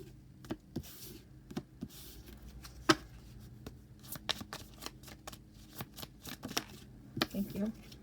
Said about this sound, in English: let's pull a couple shadow cards, or at least one